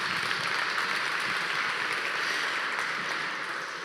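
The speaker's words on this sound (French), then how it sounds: "On peut applaudir notre équipe de France de partenaires." An audience at an awards ceremony applauds a partner team, with steady, moderately distant clapping that tapers slightly at the end.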